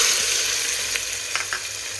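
Chopped onion, tomato, garlic and chilli go into a hot, sizzling tadka in the pan all at once. The frying hiss is loud and steady, with a few stirring scrapes and no voices.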